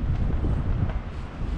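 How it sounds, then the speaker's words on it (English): Strong wind with flying snow buffets the microphone in a steady low rumble with gusty swells throughout, no voices. "it's really, really windy"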